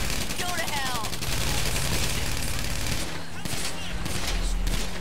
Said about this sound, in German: Ja, ich schieße.